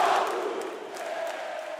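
A packed basketball arena, the Panela de Pressão gym, holds a crowd of fans roaring steadily through an NBB semifinal game against Mogi das Cruzes, a broad, sustained wash of cheering with no single voice standing out.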